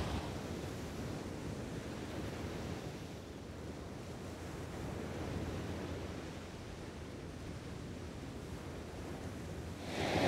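Sea waves washing in a bay on the Balkan coast near Sparta, a steady broad rushing surf mixed with wind buffeting the microphone, continuous and fairly even throughout.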